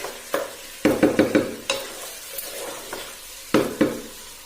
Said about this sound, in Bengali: চাউলটা ভালোভাবে নেড়ে দিতে হবে।